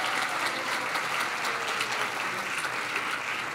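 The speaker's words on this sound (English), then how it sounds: "Let's give him a big round of applause." Audience at a church back-to-school Sunday service giving a round of applause, a steady wash of many hands clapping throughout, moderately loud and with no talking.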